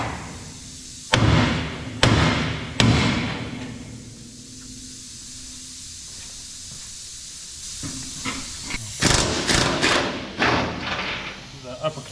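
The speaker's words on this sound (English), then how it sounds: "Big hammer." Three heavy, sharp strikes of a big hammer on metal ring out close by during suspension disassembly of a 1967 Shelby GT500 Mustang, followed by hissing and clattering of work noise with a voice speaking.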